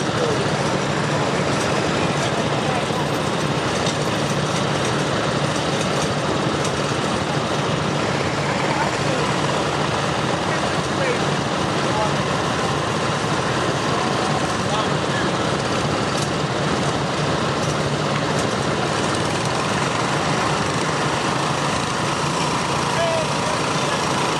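A tractor engine labours at a 2017 fairground stoneboat pull, a constant loud droning roar with no breaks for the full length, while people talk over it.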